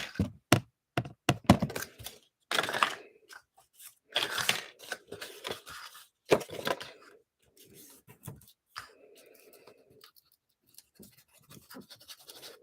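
Cardboard box base for a Cricut Valentine mail cart being folded and glued by hand, close irregular knocks, taps, scrapes and crinkly paper rustles spread across the stretch, with no speech.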